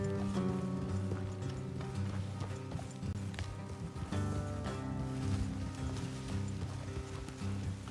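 Horses galloping in Red Dead Redemption 2, a steady rhythmic clatter of hooves under layered music and ambience, moderately loud and continuous.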